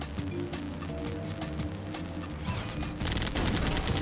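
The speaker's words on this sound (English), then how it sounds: "I can't shoot the crates." Gunfire in Sonic 06 aimed at crates, a quick burst of rapid game shots under steady background music, fairly faint, ending in a louder rush of noise.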